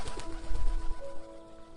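A cartoon pigeon coos softly in a short low burble, heard alone with no talk in an animated Hindi bird story.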